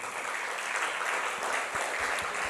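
A crowd claps, a dense, steady patter of hands sustained for a couple of seconds at moderate distance.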